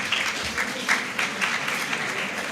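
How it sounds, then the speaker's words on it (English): Audience applause at a Muslim women's community event on mental health awareness, greeting a young poet named Mariam; steady, dense clapping from a crowd fills the short stretch without pause. "Please, a round of applause for Mariam."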